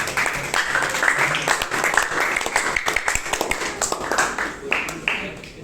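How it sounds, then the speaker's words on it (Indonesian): Classroom group clapping for a fellow participant during a school counseling training session, a scattered mid-level patter of hands sounding close, with voices talking over it throughout. "berikan tepuk tangan untuk teman kita"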